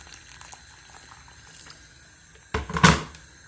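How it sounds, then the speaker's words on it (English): Hot water is poured into thickening finger millet porridge in one short splashing burst near the end, following a few seconds of quiet kitchen background. "Just adding some more water into it so that it can be the level that I need"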